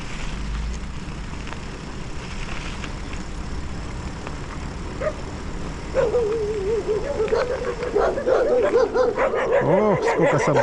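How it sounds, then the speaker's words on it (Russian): Several dogs at a dog shelter bark, yip and whine, starting distant and swelling into a loud, overlapping chorus near the end, over outdoor background noise. "Собачий приют сейчас."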